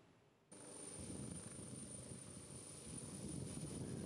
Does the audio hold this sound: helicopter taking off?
yes